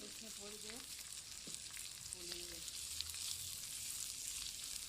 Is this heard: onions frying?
yes